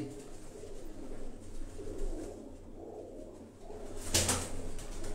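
Pigeons from a pigeon-flying squad in Gulshan-e-Maymar, Karachi, low murmuring coos in the background, ending with a short sharp burst of wing flapping near the close.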